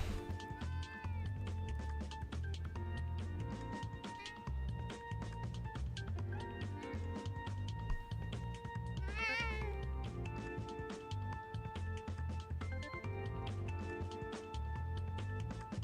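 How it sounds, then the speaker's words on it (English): A very vocal cat meows repeatedly in drawn-out, varied calls over steady background noise, close and clear with no one talking. "He's a very vocal cat."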